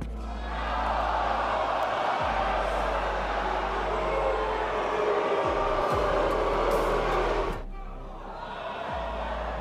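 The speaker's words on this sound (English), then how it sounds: "I don't know what all you guys are cheering for." Loud, dense crowd noise at a Street Fighter tournament, a sustained roar of cheering and shouting that carries steadily for most of the stretch before dipping briefly near the end.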